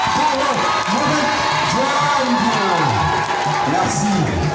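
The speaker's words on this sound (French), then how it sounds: "Sous vos applaudissements, s'il vous plaît, faites du bruit pour Mohamed" An audience cheers and whoops for a prize winner at an award ceremony for dictation and mathematics contest winners. The shouting and crowd noise are loud and steady throughout, with voices rising above the din.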